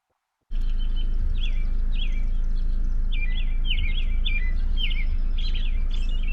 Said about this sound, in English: That's the sound of birds chirping at the 4th Street Preserve